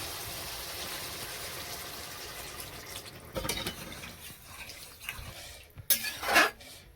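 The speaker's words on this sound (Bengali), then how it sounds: "এবার জল দিয়ে দিচ্ছি" Water is poured into a vegetable curry cooking in a pan, a short splashing gush with utensil clatter over a low, steady frying hiss.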